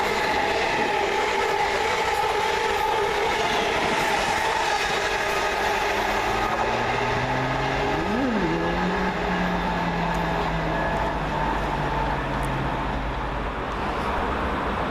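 A pair of Class 317 electric passenger trains rumbles steadily past at close range through Meridian Water station in London, with a rising and falling tonal whine and rail noise, no voices.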